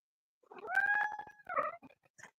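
A house cat meows close by at night, a drawn-out wavering call followed by a few shorter chirping yowls, alone in a quiet room.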